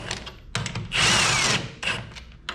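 Lug nuts spun back onto the rear wheel hub of a 2012-2020 Ford Focus MK3 with a power tool, giving short close whirring bursts and one longer loud run.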